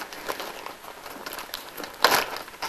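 A knife cuts through an apple to halve it, giving a crisp crunching, crackling rasp with a sharper burst near the end.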